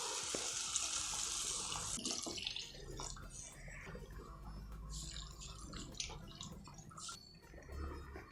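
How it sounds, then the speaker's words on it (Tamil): About two cups of water pour steadily and fairly quietly into a pan for palapazham kesari, splashing, then thinning to trickling and a few drips. "இதால் 2 கப் கிட்ட தண்ணி விட்டுடலாம்."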